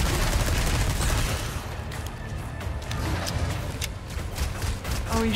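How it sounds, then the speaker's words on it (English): An enemy firing a gun in Resident Evil 4, a loud dense rumble of shots and impacts, followed by a series of sharper cracks spaced out over a persistent low game background. "Oh, he's shooting things now."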